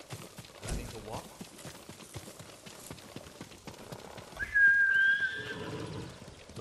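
A horse in Ghost of Tsushima sounds close by. Soft hoofbeats and faint voices are followed by a loud, drawn-out whinny that rises above everything for about a second.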